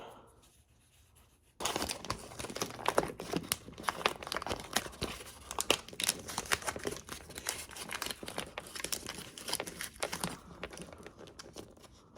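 A strip of tape being pulled and torn off for a homemade nautical table, heard close up as a long run of crackly crinkling and ripping after a short quiet start, with no voices.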